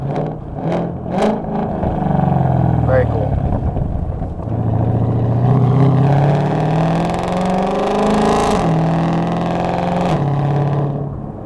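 A 2020 Ford GT500 fitted with a Lethal track exhaust, loud and close as it pulls hard in fourth gear, then drops and shifts under braking, the engine note rising and falling in long surges, with a brief spoken remark.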